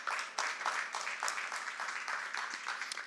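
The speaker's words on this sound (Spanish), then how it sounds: "Denle un aplauso al Señor." Church congregation applauding the Lord at a Spanish-language worship service, a lively ripple of many hands with distinct individual claps standing out, fairly near and without speech.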